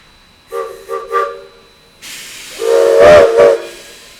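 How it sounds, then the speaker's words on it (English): Steam locomotives Kahuku and Tuolumne moving out of an engine house: a few short whistle toots, then a burst of steam hiss and a louder, longer whistle blast close by. "engine number 3, the Kahuku, and engine number 2, the Tuolumne, move out of the engine house in tandem"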